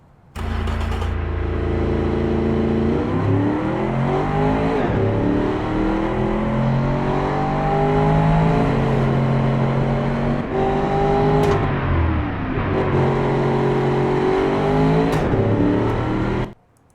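A car in the Automation game races hard around a track, its engine revving loud and continuous, rising in pitch through each gear and dropping sharply at the upshifts, repeated several times over the lap.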